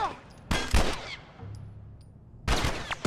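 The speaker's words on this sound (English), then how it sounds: "and he's very much still shooting" Enemy gunfire in The Last of Us video game: two loud bursts of rapid shots, the first around half a second in with a quieter tail, the second near the end, separated by a low ambient lull.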